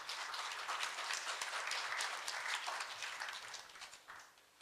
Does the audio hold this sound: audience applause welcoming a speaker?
yes